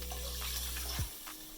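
Water poured into a pot of basmati rice and chicken stock, a steady close splashing stream that stops abruptly near the end.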